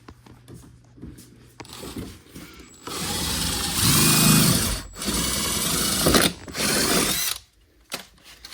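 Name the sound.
power drill drilling out fender flare fasteners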